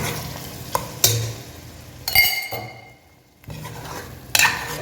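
Bottle gourd, potato and mutton being stirred in a pan, with close scraping and clinking of a spoon against metal and a soft sizzle in between, coming in uneven bursts separated by a quieter pause.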